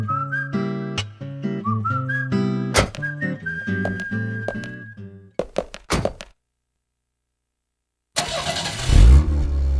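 Car engine starting with a thunk and revving away in a video game, loud, following a burst of whistled melody and a short silence.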